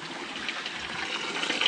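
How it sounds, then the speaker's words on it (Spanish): Drinking water runs from an outdoor tap at an old station in a steady, continuous splashing stream, close by and with no voices. "vean las tomas de agua que hay acá, agua completamente potable de la zona"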